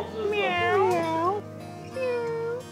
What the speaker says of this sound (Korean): 나 고양이랑 얘기해!